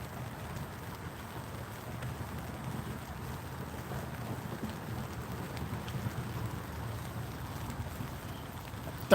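Rain patters steadily on an awning over a spot by the water during a catfishing trip in bad weather, a constant, soft hiss with faint wind noise and no talking.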